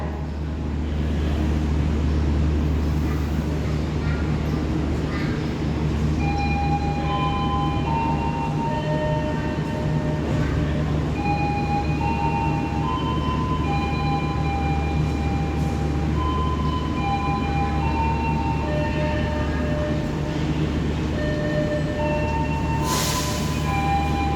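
The Argo Bromo Anggrek passenger train idles at a station in Indonesia with a constant low engine rumble and hum, while faint tonal chimes or whistles sound intermittently over it.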